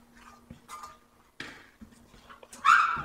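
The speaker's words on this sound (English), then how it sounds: "Those dogs are really barking in there." Dogs bark from inside a nearby space near a 1957 Chevy being worked on, giving several short, separate barks spread across a few seconds, with clinking and small clatters between them.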